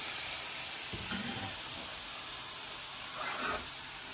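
Slices of poultry ballottine sear in a hot pan, giving a loud, steady sizzle with a couple of brief bursts as the pieces shift.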